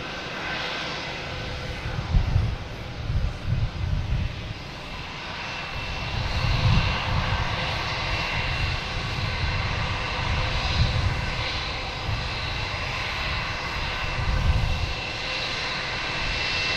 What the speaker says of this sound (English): Behind that is Aer Lingus coming from Dublin in A330-300.